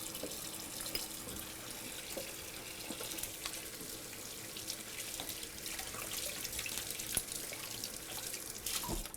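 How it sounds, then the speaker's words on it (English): Tap water runs steadily into a kitchen sink while someone rinses their hands, a faint, continuous splashing hiss with small irregular spatters and drips throughout. "I'm gonna go rinse my hands"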